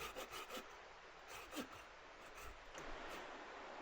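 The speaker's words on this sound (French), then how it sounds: "On sciait avec ma petite scie." A small hand saw cuts wood at an isolated riverside campsite, with a quiet, raspy back-and-forth stroke repeating in an uneven rhythm, faint and close, with no talking.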